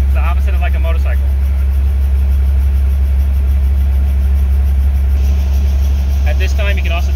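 An R44 Raven II helicopter engine runs steadily during startup, a constant low drone with a higher whine layered on top, while someone talks over it in short bursts.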